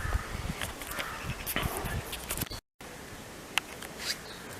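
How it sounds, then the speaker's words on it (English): Several crows arrive and caw over outdoor background noise, with sharp calls rising from moderate distance, one louder call near the end after a brief dropout. "Now you see the other crows are coming in now and they're getting a little bit annoying."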